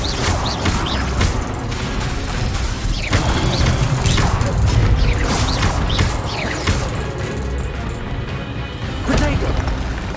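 Expelliarmus spell effects in Hogwarts Legacy, loud repeated crashing impacts and whooshes over dense, busy game sound, continuing throughout with bursts every second or two.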